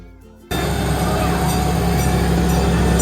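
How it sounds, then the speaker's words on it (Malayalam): A miniature park train pulls into its station, a steady broad rumble and rattle that starts abruptly and holds loud and close, with faint voices under it. "ട്രെയിൻ തിരിച്ചു വന്നു കേട്ടോ"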